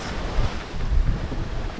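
Wind at sea on a moving sailboat at 14 to 16 knots apparent, a loud, steady rushing roar buffeting the microphone with low gusty thumps and no speech.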